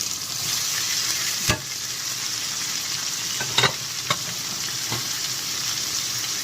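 Vegetables sizzle steadily in a hot pan with a broad frying hiss, broken by a few sharp clinks of a utensil stirring against the pan.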